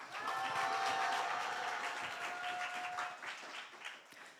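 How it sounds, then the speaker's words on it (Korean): An audience at a church youth speech contest gives sustained, fairly distant applause, even and full at first and then thinning toward the end, with a faint tone running underneath. "큰 박수 부탁드립니다."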